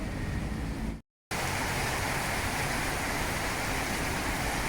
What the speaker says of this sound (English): the heavens have opened up. Big rain